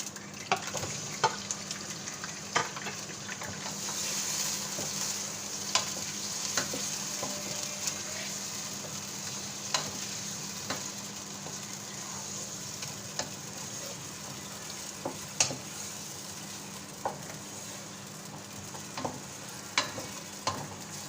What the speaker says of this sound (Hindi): ये हम इसमें चिकन ऐड कर रहे हैं